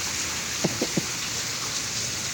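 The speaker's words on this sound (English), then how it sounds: "Look at this rain, though, man. Look at all that water." Steady hiss of heavy rain falling in Texas, with a few brief soft knocks or thumps standing out near the start; no voices.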